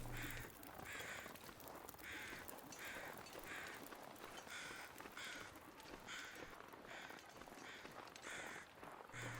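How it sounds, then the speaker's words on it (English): Crows cawing by a lake in The Long Dark's Mystery Lake region, a steady run of harsh repeated caws over a constant ambient wash, with no talk. "there are a load of crows by the water. And they make that exact noise"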